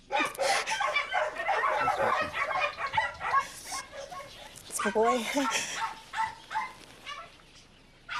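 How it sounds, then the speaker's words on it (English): A dog yips and whimpers excitedly amid steady talk from nearby people, its short high barks breaking through the voices. "It's a dog, OK?"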